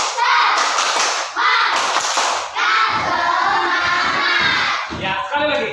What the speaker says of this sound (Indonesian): Bisa semuanya tepuk semangat.